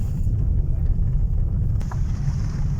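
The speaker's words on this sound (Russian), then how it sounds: "Ветер, как обычно." Strong wind buffets the microphone on a fishing trip, a dense low rumble that runs continuously and loud throughout, with a faint voice briefly audible.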